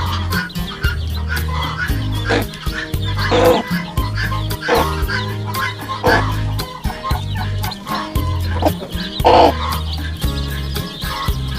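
A domestic hen from a mixed flock clucks repeatedly near her newly hatched chicks, with short, uneven clucks recurring over a steady low background.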